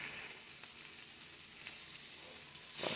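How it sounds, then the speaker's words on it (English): Steaks sear on a flat top grill with a bright, constant sizzle that is close and loud and swells slightly at the very end. "let you guys see me sear these steaks off on the flat top"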